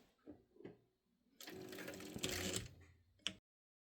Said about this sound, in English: You're going to backstitch at the beginning and the end, making sure that you're at 1/8 of an inch.